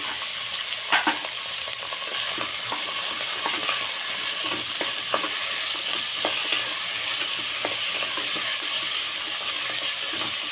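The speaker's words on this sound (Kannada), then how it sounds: "ಆಲೂಗೆಡ್ಡೆ ಹಾಕ್ಕೊತಾ ಇದ್ದೀನಿ." Potatoes frying in hot oil for a drumstick sambar give a steady, close crackling sizzle that runs for the whole clip, with faint stirring clicks and scrapes now and then.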